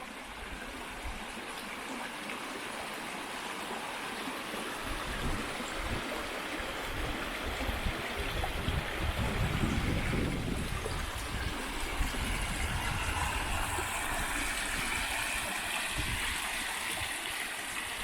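Red Creek flowing past a campsite in Dolly Sods, West Virginia, a continuous close rushing and gurgling of water, swelling slightly in the middle with a few low thumps underneath.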